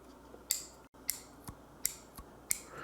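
Sharp mechanical clicks from the lock of a budget EDC folding knife, about six crisp snaps spaced roughly half a second apart, close and fairly quiet against a soft background hiss.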